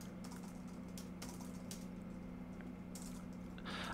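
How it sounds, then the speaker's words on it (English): Faint, irregular clicks of typing on a computer keyboard over a steady low hum in a quiet room, with no speech. "I'm having a hard time typing today."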